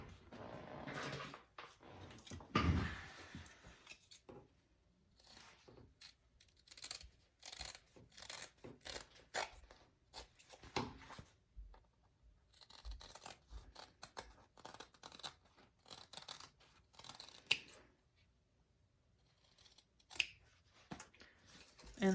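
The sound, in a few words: scissors trimming handbag material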